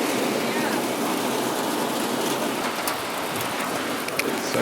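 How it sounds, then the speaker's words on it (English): Heavy rain falls steadily on a mountain hut along the Tour du Mont Blanc, a dense, continuous hiss of drops close by that holds even throughout. "It's so rainy."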